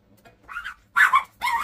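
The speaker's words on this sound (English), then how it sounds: "She barks and chases her away" A small dog barks and yips in three short, sharp bursts, close by, with brief pauses between them.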